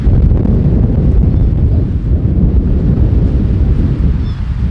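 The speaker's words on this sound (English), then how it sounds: "This wind is ripping." Strong wind on a disc golf course buffets the microphone in a loud, continuous low roar with gusty fluctuations throughout.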